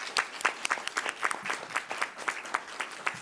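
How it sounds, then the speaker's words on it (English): Audience applause fills a candidate forum held by the Gloucester branch of the NAACP, with a steady patter of many hands clapping at moderate volume and no talk over it. "Audience, let's give them a round of applause."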